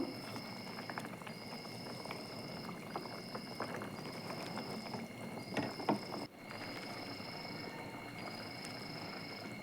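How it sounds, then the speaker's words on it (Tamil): Egg masala thokku simmering and reducing in a pan gives a soft, steady bubbling sizzle that runs quietly throughout, with a high steady whine in the background. "இன்னும் கொஞ்சம் நேரம் சுண்டி வரட்டும்"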